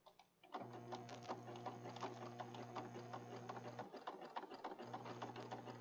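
A sewing machine runs fast on a junk journal, a close, continuous mechanical hum with rapid needle clatter starting abruptly after a brief pause, then briefly easing and picking up again.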